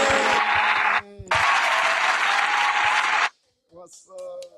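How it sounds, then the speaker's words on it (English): A studio audience applauds as a guest is brought on: a loud, steady wash of clapping with a brief dip early on, cut off sharply, then a short spoken greeting. "Keep the applause going."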